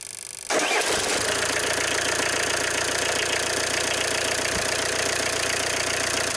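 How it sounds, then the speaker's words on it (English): Car engine cranks and catches after a silent start, then settles into a steady, loud idle with a freshly fitted alternator accessory drive belt running on its pulleys. "Start the engine."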